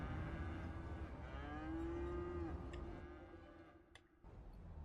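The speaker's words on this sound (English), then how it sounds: "Love the sound of the cows." Cattle mooing in the city-building game Cities: Skylines, one long drawn-out low moo rising over a soft ambient game background, with a faint tick near the end.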